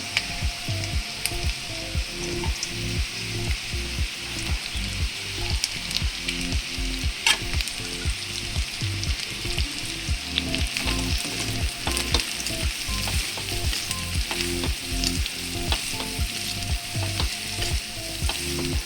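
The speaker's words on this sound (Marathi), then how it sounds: "आता मी त्याच्यामध्ये चिरलेला आपला कोबी घालते" Chopped cabbage added to onions in a hot pan crackles with a loud, continuous close sizzle, broken by steady regular scraping strokes of a spatula stirring throughout, with no talking.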